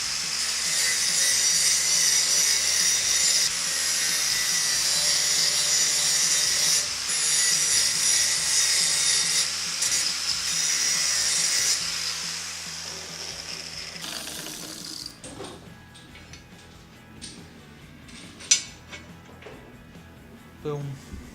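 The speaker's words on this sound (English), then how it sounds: "So I'm just going to grind edges off them." An angle grinder works the edges off metal pieces in a home garage, a loud steady high grinding whine for about fourteen seconds before it cuts off, leaving quiet clanks and shuffling.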